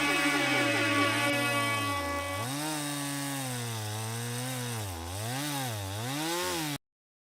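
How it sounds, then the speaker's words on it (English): Log sawing sound effect played over a live AM radio show: a continuous buzzing, chainsaw-like drone with wavering pitch that rises and falls in slow sweeps, loud and unbroken, with no voices, cutting off abruptly. "we're going to at least get you a nice bit of some log sawing here"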